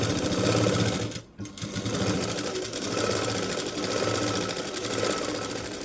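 A sewing machine runs steadily, stitching a main cloth loosely onto its lining for puff sleeves, a close, loud mechanical whir with one brief pause before it resumes.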